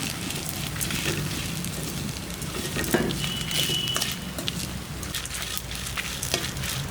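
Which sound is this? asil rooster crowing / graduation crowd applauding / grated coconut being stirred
grated coconut being stirred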